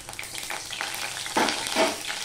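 Bitter gourd, tomato and other sliced vegetables hitting hot spice tempering in oil, giving a steady sizzle that surges loudly twice as pieces are added and stirred, with no talk.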